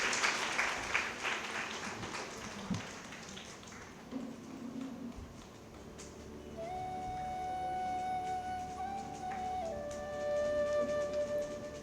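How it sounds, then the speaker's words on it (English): An audience at a book release event for Dr. Virupaksha Devaramane gives a brief burst of clapping at the start. It fades into a quieter hall with scattered taps and sustained electronic tones. "Shall we have some claps around?"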